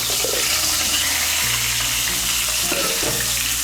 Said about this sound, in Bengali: এই তেলের মধ্যে আমি পটলগুলো ভেজে নেব।